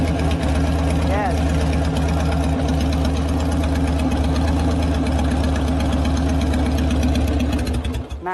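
A warmed-up Harley chopper engine idles at close range, a loud steady rumble with a regular knocking pulse that runs throughout and dips briefly at the very end.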